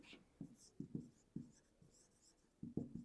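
Faint pen or pencil strokes scratch across paper during a worked fractions math exercise, coming as short irregular scribbles with small gaps, close and quiet.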